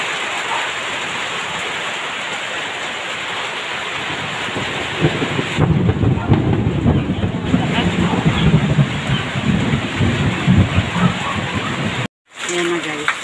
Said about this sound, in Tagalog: Umuulan na. Ang lalakas pa ng mga kulog.